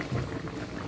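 A pot of chicken gizzard, liver, wing and bottle gourd curry with potatoes simmers on the stove, giving a steady low bubbling hiss throughout the brief stretch.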